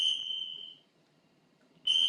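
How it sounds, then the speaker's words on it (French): A shrill sports whistle signals the restart of a fitness workout, sounding two clear sustained blasts separated by a short pause in an otherwise quiet room. "Au deuxième coup de sifflet, on reprend."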